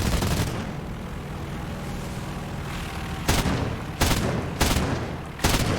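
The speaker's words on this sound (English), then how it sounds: "Love the gun sounds." Short, loud bursts of aircraft gunfire from a Romanian plane in War Thunder cut through a steady engine drone, with about four separate volleys near the end.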